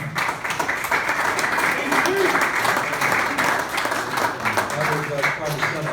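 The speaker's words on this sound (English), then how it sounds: "So round of applause, Casey Crook." A crowd applauds continuously, a dense wash of clapping throughout, with faint voices mixed in beneath it.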